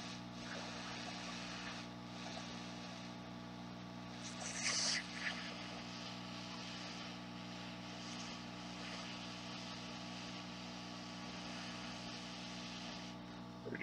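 A hot air rework station blows through its nozzle while a digitizer FPC connector is replaced on an iPhone 5S board, giving a steady whirring hum with a brief louder burst partway through.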